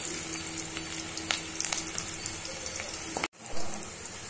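Ginger, garlic and green chilli sizzle steadily in hot oil for a restaurant-style dragon chicken, a close, continuous frying hiss with a few stirring clicks, then a brief sharp cut near the end before the sizzle resumes.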